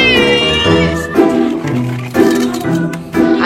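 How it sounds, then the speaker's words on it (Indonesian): Stray cats meowing loudly and close, a run of drawn-out, wavering meows and caterwauls from more than one cat overlapping each other, with faint other sounds beneath. "wanita bernama Amelia Zagita ini memilih meluangkan waktu, tenaga, dan hati untuk para kucing liar"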